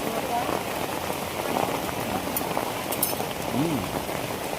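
Heavy rain pours steadily on surfaces nearby, a dense continuous patter, with faint voices murmuring beneath it.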